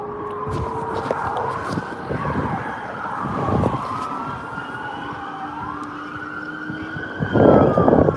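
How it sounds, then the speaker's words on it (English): Several police sirens in Los Angeles wailing at once, their pitches sweeping and overlapping at moderate distance, with bursts of traffic rumble and no speech. "You hear the sirens, they're calling for more backup."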